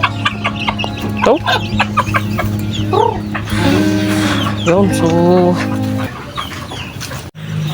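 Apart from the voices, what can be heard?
native chickens clucking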